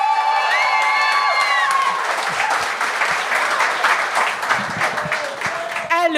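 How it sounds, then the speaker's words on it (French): A studio audience at a televised talent show claps and cheers to welcome a performer, a dense, loud wash of applause with whoops for about six seconds, a voice audible in the middle of the noise. "on accueille avec un tonnerre d'applaudissements, s'il vous plaît. Applaudissez-la"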